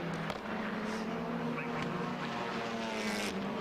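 TCR touring race cars at Brands Hatch Indy roar past in a steady, sustained engine drone with shifting tones and brief surges, heard from trackside with no clear speech.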